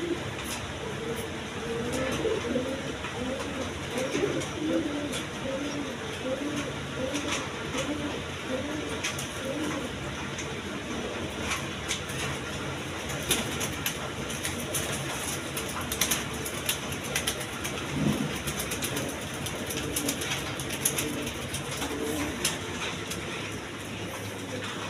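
Faint, repeated cooing from a pair of coloured golla pigeons, mixed into a constant rumbling background noise throughout.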